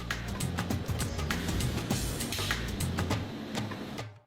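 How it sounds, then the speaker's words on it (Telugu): Machinery at a candy factory inserts sticks into ice candy molds on a conveyor, producing a busy rhythmic clatter of quick ticks and clicks over a steady mechanical rumble. "ఇక్కడ ఒక మెషిన్ స్టిక్స్ ని ఇన్సర్ట్ చేస్తోంది."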